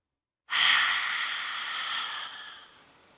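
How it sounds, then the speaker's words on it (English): A deep sigh exhaled out through the mouth during a guided meditation, one long, close breathy rush that starts abruptly and slowly tapers away over about two seconds, with no talking. "Then exhale out through your mouth with a deep sigh out."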